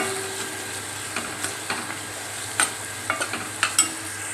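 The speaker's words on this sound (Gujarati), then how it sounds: "હવે આપણે આ બધું હલાવી નાખીશું" A spoon stirs spices, sugar and tomato in a cooking pot, with soft intermittent scraping clicks and a light sizzle underneath, close and fairly quiet, no voices.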